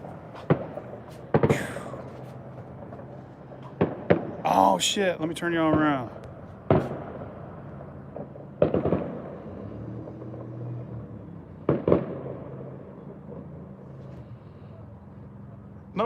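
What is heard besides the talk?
fireworks going off outside at night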